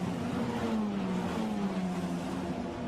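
Formula Renault Eurocup single-seaters lapping Paul Ricard circuit, a steady sustained engine drone with a slowly falling pitch, moderately loud and continuous without pauses, no voices.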